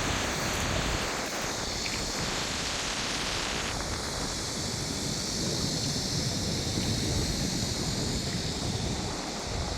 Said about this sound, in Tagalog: Dagat!